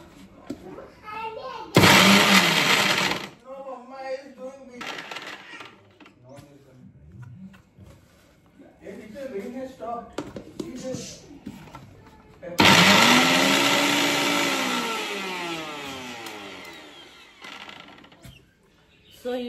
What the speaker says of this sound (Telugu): ఈ విధంగా మనం మిక్సీ చేసుకోవాలి